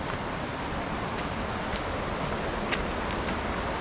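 Creek water at Finch Hatton Gorge rushes in a steady broadband wash, continuous and fairly loud, with a few faint splashes and no talking.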